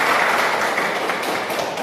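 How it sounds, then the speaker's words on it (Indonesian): Steady applause from a crowd, continuous dense clapping at even loudness for a couple of seconds, with no voices over it. "tepuk tangan untuk kita semua"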